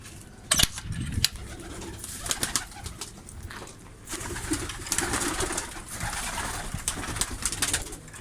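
A white pigeon cooing as it is handled, repeated soft throaty coos close by with rustling and handling bumps between them.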